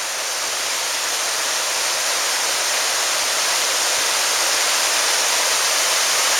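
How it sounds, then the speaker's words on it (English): A waterfall cascades down rock in Zion National Park's Kolob area, a steady, dense rushing hiss heard close and unbroken throughout, with no voices. "And then we've got one more waterfall cascading right down here."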